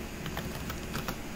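Quick keystrokes on a computer keyboard, a short run of soft clicking taps close to the microphone, with no talk over them.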